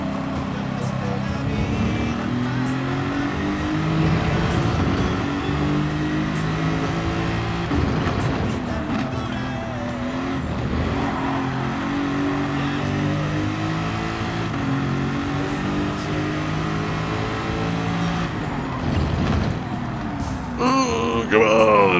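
NASCAR race car engine during track testing: a loud, continuous roar whose pitch climbs and drops with acceleration and gear changes, close and steady for the whole stretch.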